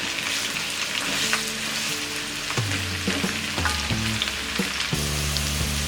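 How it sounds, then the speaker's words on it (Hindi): Pointed gourd (parwal) fries in hot oil over a medium flame, a steady close sizzle with occasional stirring scrapes and clatter. "अब हम इसमें डालेंगे ये परवल। मिक्स कर देते हैं और इसे मीडियम फ्लेम में फ्राई करेंगे"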